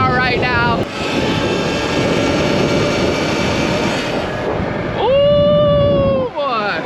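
An electric dirt bike rides through city traffic at about 40 mph, giving a loud, steady whine and wind rush with rising and falling tonal motor pitches.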